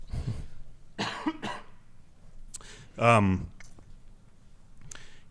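A single loud cough from a podcast guest during a live recording at Treefort festival, breaking up otherwise quiet conversational speech with short pauses around it.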